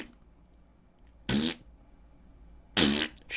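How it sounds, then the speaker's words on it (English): Two loud, sputtering farts break out about a second and a half apart against near silence, with a third starting at the very end. "My God, that's a fart."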